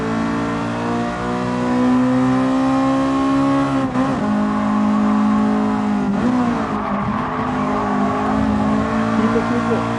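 A Honda Civic Type R races in a video game, its engine holding a loud, steady high-revving drone that dips and recovers twice as it lifts off and brakes, with faint tire noise toward the end.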